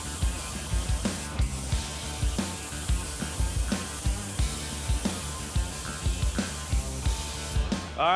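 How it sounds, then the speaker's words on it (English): A spray gun lays high build primer onto body panels of a worn-out 1972 C10 truck, with hissing spray bursts interrupted by repeated mechanical clicks and short pauses. "We're going to spray 3 coats to make sure we have full coverage."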